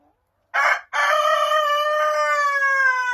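A broody hen that has run from her nest gives a loud, close call: a short squawk, a split-second break, then one long, drawn-out harmonic cry held for over two seconds in otherwise quiet surroundings.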